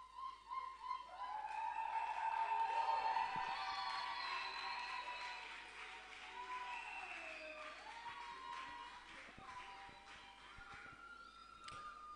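Wedding guests at a church ceremony clap and cheer as the newlyweds make their entrance, with sustained applause swelling early and then continuing more softly beside high, tonal voices.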